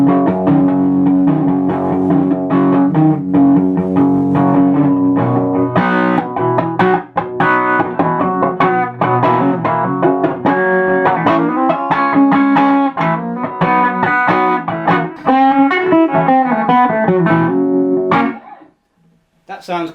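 A heavily overdriven electric guitar through a Marshall JTM45 Bluesbreaker tube amp plays chords and riffs with a gritty, crunchy tone, loud and continuous before cutting out near the end.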